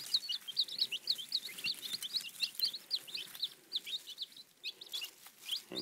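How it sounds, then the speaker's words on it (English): Young Cornish Rock, red sex link and brown Leghorn chicks huddled together give a dense, continuous stream of high, rapid peeps, close by with no voices. "Cornish Rocks, red sex links, which is basically red stars, and"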